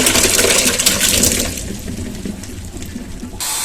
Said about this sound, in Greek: να αδειάσουμε το σταφύλι μας σε ένα τρυπητό, σε ένα σουρωτήρι